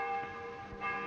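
Faint, distant church bells ring with a sustained metallic hum, their tones swelling and fading over a soft background.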